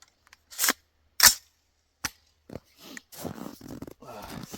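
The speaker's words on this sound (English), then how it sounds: "It's cold, so we're just going to shoot." Rifle with a 3D-printed PLA lower fired in freezing cold, two sharp loud shots spaced apart, then a faint click and quieter handling noises with brief rustling.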